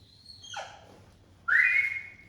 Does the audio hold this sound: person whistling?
yes